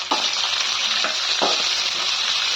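Three medium chopped onions fry in a pan for capsicum chitranna, with a loud, steady, close sizzle and a few dull stirring knocks as they are turned.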